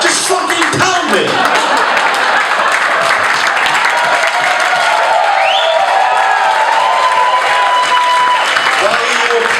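A comedy club audience applauding: a burst of crowd clapping and some cheering, loud and close, that fades into a softer murmur with a few scattered claps.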